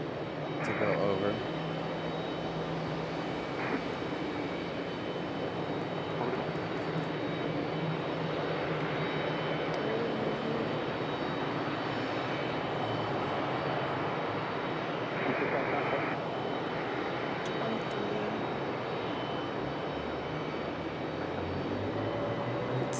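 An airplane at Raleigh-Durham International Airport makes a steady, broad engine roar that fills the whole stretch while a person talks over it.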